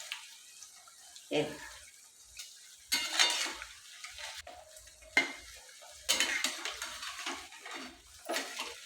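Rava sweets frying in a pan while being stirred, intermittent sizzling bursts mixed with close scraping and clinks of a utensil against the pan, with quiet gaps between.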